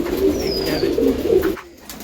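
Male pigeons in a loft coo in a steady low murmur while they take turns drinking water, with one faint higher whistle-like tone and a brief drop in sound near the end.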